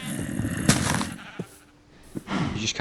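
Sheep bleat in a Minecraft survival game, a few short nasal cries mixed with sharp game clicks and thuds, fairly close and moderately loud over background sound.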